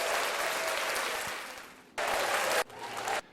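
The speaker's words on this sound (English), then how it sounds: "hit the round of applause" A canned round-of-applause sound effect triggered from a button, a burst of crowd clapping that fades, then cuts back in abruptly twice in short hard-edged bursts, with no voices over it.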